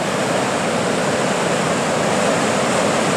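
Water roaring through Foster Falls, a loud, continuous broadband rush of turbulent flow that stays steady and close throughout, with no voices.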